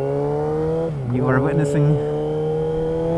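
A Kawasaki ZX6R motorcycle with an aftermarket exhaust holds a steady, loud idle hum, then dips and rises through a brief rev before settling back, with someone talking over it.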